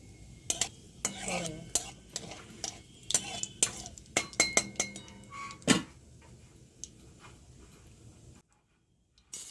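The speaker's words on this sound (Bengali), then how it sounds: "ব্রকলির টুকরোগুলো কড়ায় দিয়ে দেয়া হচ্ছে ব্রকলিগুলো কড়ায় দেওয়ার পর ভালো করে একটু ভেজে নিতে হবে" Broccoli pieces hit hot mustard oil in a wok and fry with scattered crackles and clattering stirs, a run of sharp utensil knocks against the pan before the sound drops to near silence.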